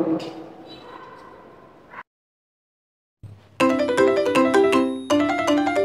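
A phone ringtone plays loudly in repeated melodic bursts after a short silence, with a domestic scene's talk and noise before the gap.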